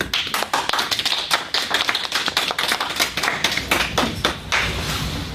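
A gallery of onlookers claps at a city council Committee of the Whole meeting, a close, loud burst of uneven handclaps that continues steadily throughout, with no talking over it.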